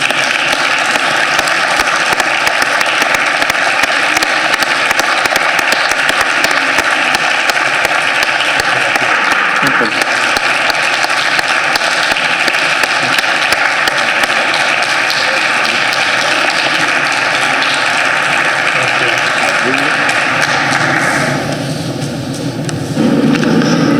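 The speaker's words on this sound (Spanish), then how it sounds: "Lo recibimos, por favor, con un fuerte aplauso." Sustained audience applause greets the 2022 Premio Nacional Factoría Creativa de las Letras award to Juan Eslava Galán, a dense steady roar of many hands that carries on for about twenty seconds before tapering off near the end.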